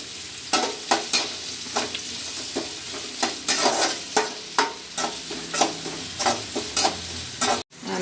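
Onion frying in a pan of oil for aloo gobi, a steady sizzle broken by a run of regular scraping stirs from a spatula, close and fairly quiet, with no talking.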